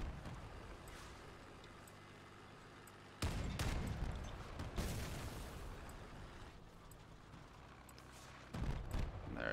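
Armored vehicles trade gunfire in the online vehicle-combat game Crossout during a tank event, with dense rumbling blasts and a heavy booming shot near the middle and another at the end, over constant engine noise.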